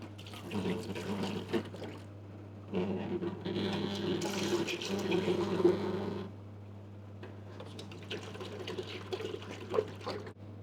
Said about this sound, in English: grab your empty jug and essentially draw off each one individually, again to make sure that the seals are intact and to flush the system through